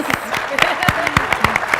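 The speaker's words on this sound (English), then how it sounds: "Get all the clapping here." Audience clapping at an urban transportation conference show, a short burst of claps over a steady crowd murmur with voices mixed in, fairly close and moderately loud.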